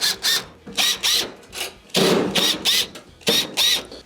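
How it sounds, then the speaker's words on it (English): A power drill backs Phillips screws out of the top panel of a Whirlpool stove. The motor whines in short repeated bursts with pauses between them, close and loud, and no one talks. "you must go around the perimeter and remove the Phillips screws that are holding it on"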